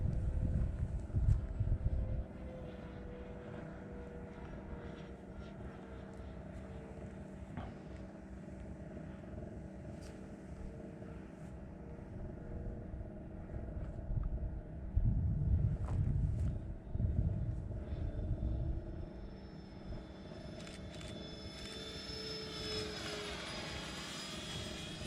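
Pixar Pier AL37 RC model airplane engine at three-quarter throttle, a steady droning whine over rumbling wind and ground noise, its pitch climbing sharply in the last few seconds.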